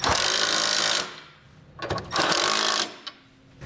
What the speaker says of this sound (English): We can now go back and tighten down our hardware with a 15 millimeter socket.